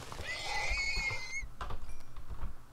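Minecraft horse giving a loud whinny that lasts about a second and a half, followed by softer snorts and shuffling.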